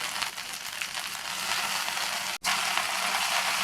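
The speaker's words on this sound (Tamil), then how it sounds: "புதினா இலைகளை சேர்த்துட்டு இதையும் நல்லா எண்ணெயிலேயே வதக்கி விட்டுக்கணும்." Mint leaves and ginger sauté in hot oil for a chutney, giving a steady close sizzle with faint scraping and stirring textures and one brief gap near the end, with no talk.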